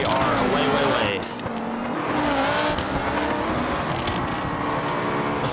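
Rallycross race cars at Lonestar Speedway in BeamNG roar away from the start, engines revving loudly and overlapping with tire squeal, while a commentator talks over the racing noise.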